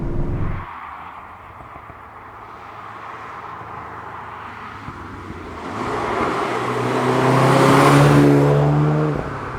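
Engine of a 2016 VW Golf GTI Clubsport S, a turbocharged four-cylinder shared with the Golf R, heard while driving: a steady loud drone that swells as revs rise near the end, with road and wind noise underneath.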